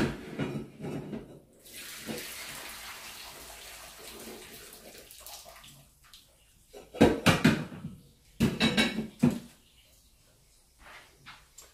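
Water drains off boiled carrots and potatoes in two short, loud gushing pours, after a stretch of quieter running water and a voice talking at the start.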